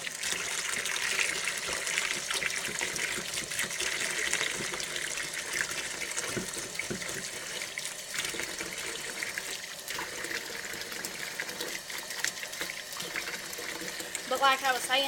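Hot water runs into a pan while homemade washing detergent is being made, a steady hissing, splashing stream lasting the whole stretch, close up, with a voice speaking over it.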